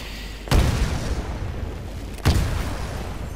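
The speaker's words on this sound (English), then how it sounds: "Throw a grenade into each of the windows." Two grenade explosions go off in Titanfall a couple of seconds apart, each a sharp deep boom trailing into rumble over a steady background hum.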